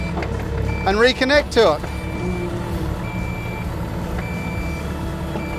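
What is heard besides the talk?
Cat mini excavator spinning bucket around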